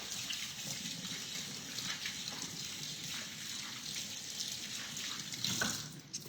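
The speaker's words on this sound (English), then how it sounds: "Wash your hands." Running tap water while hands are washed at a sink, a steady close splashing flow with soft rubbing and sloshing throughout.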